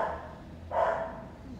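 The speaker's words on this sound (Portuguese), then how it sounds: "Pronto, acordaram os cachorros de novo" A few dogs bark at a distance, a brief burst of barking rising once midway in an otherwise quiet indoor setting.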